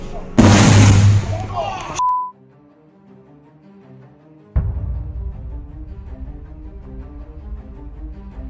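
A power pole fire in Preston's explodes in a loud, crackling burst lasting under two seconds, cut off abruptly by a brief electronic tone, silence, then music.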